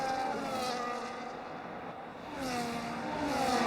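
Ferrari F1 race cars in a video game, the Brazil Sprint race, scream past with high revving engine whines that swell, fade and rise again as they go by.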